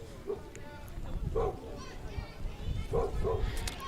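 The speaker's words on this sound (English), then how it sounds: "Dog in the crowd excited." An excited dog in the stands at a varsity softball game gives four or so sharp barks spread across a few seconds, rising over steady crowd murmur and people talking nearby.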